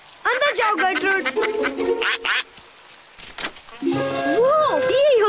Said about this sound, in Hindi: बाहर जाते वक्त बत्तख को अंदर भेजना मत भूलना।